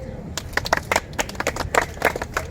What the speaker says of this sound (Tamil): சிறப்பான ஒரு கைத்தட்டல்